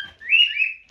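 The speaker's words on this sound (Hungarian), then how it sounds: "Ez egy cseh papagáj, nem tud magyarul." A parrot gives a single rising, whistled call lasting about a second, clear and fairly close, with no talking over it.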